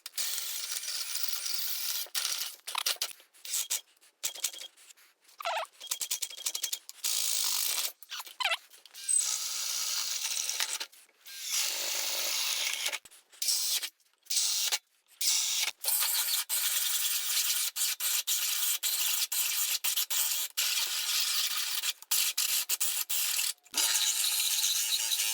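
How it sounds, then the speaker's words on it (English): A drill driving a 3¼ inch hole saw through wooden studs gives a harsh, rasping grind in repeated bursts, broken by short pauses between cuts, loud and close. "We're gonna compromise all the structural integrity of these studs with a 3¼ inch hole saw."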